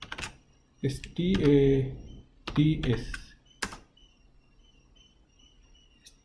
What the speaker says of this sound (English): Let's just type it first.